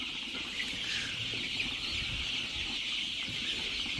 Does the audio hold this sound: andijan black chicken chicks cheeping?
yes